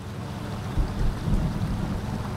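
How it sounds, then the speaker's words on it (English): A thunderstorm in the off-road truck game SnowRunner: steady rain hiss with low, rolling thunder rumbles swelling through the middle, fairly soft overall. "Or is that because the storm started?"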